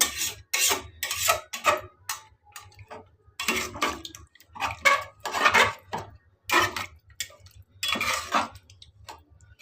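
Biryani in a pot scraped and stirred with a spoon after water is added, giving repeated close rasping, rubbing strokes in short bursts with brief pauses, over a faint low hum.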